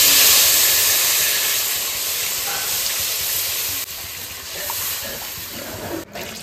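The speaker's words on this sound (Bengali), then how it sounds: "এবার আমি জল দিয়ে দেবো।" Water poured into a pan of hot oil and spice paste seasoned with salt and turmeric sets off a loud, steady hiss and steamy sizzle that runs throughout, easing slightly as it settles.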